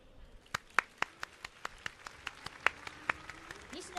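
Audience applause at a Tokyo Game Show 2025 keynote, with sharp individual claps standing out over a steady patter from the crowd for several seconds.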